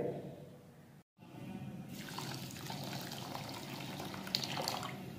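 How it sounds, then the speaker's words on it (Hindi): Half a cup of water pours steadily into a pan holding two cups of sugar, a close, splashing trickle that starts after a brief silence and continues to the end. "हाफ कप हम इसमें पानी ऐड कर लेंगे।"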